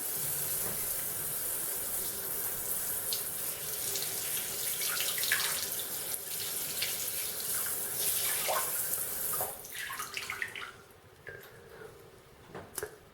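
Parts of a Philips electric shaver are washed under a running tap, a steady hiss of water splashing into a sink with occasional clicks and handling sounds, fairly quiet and close.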